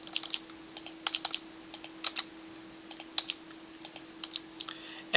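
Random numbers keyed into a Kakuro puzzle game on a computer keyboard: quiet, irregular bursts of key clicks over about five seconds, alone with a faint steady hum underneath.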